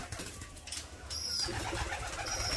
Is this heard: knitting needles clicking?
no